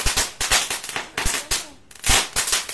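Firecrackers set off on New Year's Eve crack in quick, loud bursts, close by, with a short lull midway before more rapid pops.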